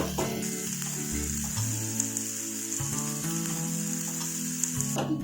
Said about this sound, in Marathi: आता मसाला छान परतलाय फोडणीमध्ये